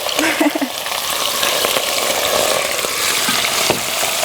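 Meat fries in very hot oil in a kazan for palov, giving a loud, dense, steady sizzle close up, with light stirring clatter and no talk.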